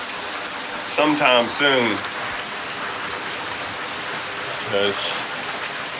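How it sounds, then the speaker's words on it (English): Heavy rain from Hurricane Harvey pours down in a steady, dense hiss outdoors near chicken coops while someone talks briefly over it. "So the hope is the rain ends at some point"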